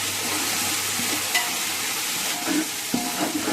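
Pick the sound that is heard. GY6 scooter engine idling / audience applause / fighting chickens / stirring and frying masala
stirring and frying masala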